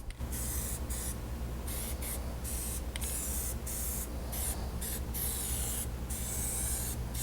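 Plasti Dip aerosol sprayed in a light first coat onto car wheels, a close, continuous hiss broken by short pauses as the nozzle is released and pressed again.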